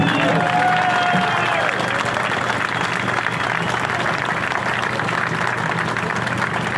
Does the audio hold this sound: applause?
yes